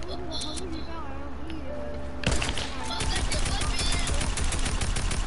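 Video game gunfire breaks out after a stretch of background game sound, with rapid shots and automatic bursts that grow dense and loud in the last few seconds while players talk.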